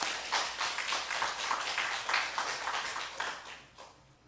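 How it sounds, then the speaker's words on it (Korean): A church congregation claps together during a Sunday service, a moderately faint, roughly rhythmic run of many hands that continues for several seconds before easing off. "하나님께 영광의 박수 돌리겠습니다"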